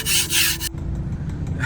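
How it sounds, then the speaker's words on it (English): An ice scraper rasps loudly across frost on the inside of a car window for under a second, then stops, leaving quiet cabin rumble. "we need the scraper for the inside too"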